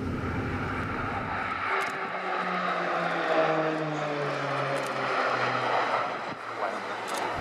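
Croatian Air Force Krila Oluje aerobatic team's propeller aircraft flying a Delta 6 formation display at an air show, a steady engine drone with pitch shifting as the planes pass, under announcer talk.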